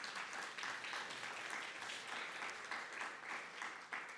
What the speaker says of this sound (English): Another big round of applause for Connie.